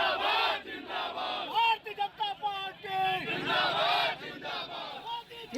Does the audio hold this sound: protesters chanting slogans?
yes